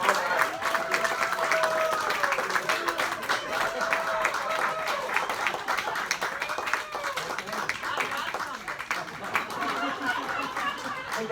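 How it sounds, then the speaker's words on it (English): An audience gives sustained applause, a dense wash of many hands clapping at once that runs steadily for over ten seconds, with crowd murmur mixed in. "All these applause."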